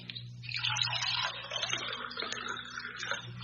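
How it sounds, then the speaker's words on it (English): Milk poured into a glass in a radio drama scene: a steady, fairly soft liquid gush and splash lasting a few seconds, with a low hum underneath and no talking. "Now, pour the milk into it, okay?"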